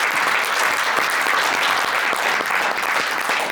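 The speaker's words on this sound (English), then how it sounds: "we want to acknowledge him with a round of applause" Continuous, dense clapping from a large audience at a university talk on unity and shared values, steady and loud throughout with no speech on top.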